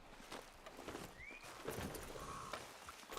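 Horse hooves clop steadily in Red Dead Redemption 2, a quiet walking rhythm against outdoor ambience, with a brief whinny-like tone and bird calls faintly in the background.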